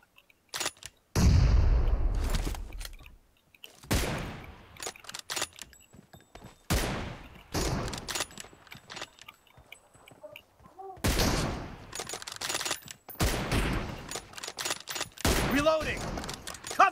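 Gunshots ring out in a mobile shooter game as loud, sharp single cracks and short bursts, separated by brief quiet gaps and heard close and alone.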